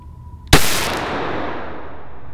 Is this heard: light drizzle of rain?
no